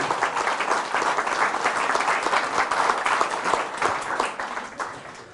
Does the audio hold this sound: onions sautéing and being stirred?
no